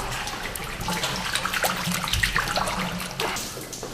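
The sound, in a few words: provola cheese being put into water for brine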